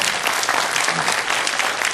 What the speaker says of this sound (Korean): 제 이야기가 맞으면 박수 한번 부탁드립니다.